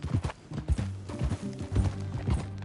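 Steady clip-clop of a horse's hooves in Red Dead Redemption 2, close and moderately loud, with evenly spaced hoof strikes repeating through the short stretch.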